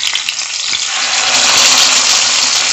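Rice-flour-coated fish frying in hot oil as it is flipped, giving a loud, close, continuous sizzle that swells and grows denser after the first second, with no talking.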